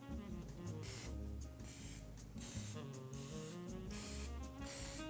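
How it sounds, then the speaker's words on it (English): Cooking spray hisses in short repeated bursts onto raw chicken drumsticks in a roasting pan, close and crisp with brief pauses between sprays, over soft background music. "Spray each of the drumsticks."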